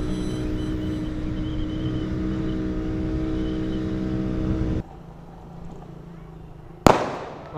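New Year's Eve fireworks over Manila rumble as a dense continuous roar of distant bursts mixed with a droning engine hum, then drop to a quieter wash before a sudden loud nearby crack near the end.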